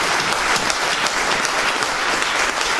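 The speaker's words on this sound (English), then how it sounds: "let's give another round of applause to Mr." A studio audience applauds Damon John in a steady, dense, loud burst of clapping that holds evenly throughout with no speech over it.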